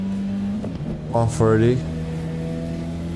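A car engine in the racing video game AC EVO drones steadily, then briefly revs and climbs in pitch before settling back, while someone talks over it.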